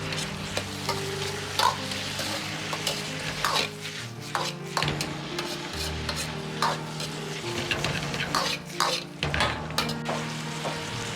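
Sliced cucumber is stir-fried in a wok with Hangzhou peppers and bird's-eye chili rings. A steady sizzle runs under repeated, close metallic scrapes and clanks of the spatula tossing the food, with no talking.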